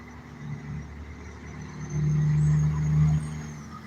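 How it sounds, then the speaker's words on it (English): Truck passing on a city street, a low engine rumble that swells to a loud, near drone midway, then fades slightly. "Oh, here come a truck"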